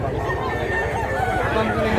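A young stag rooster at a rural poultry market in Mantalungon, Cebu crows in a drawn-out call, loud and close, with a faint background murmur.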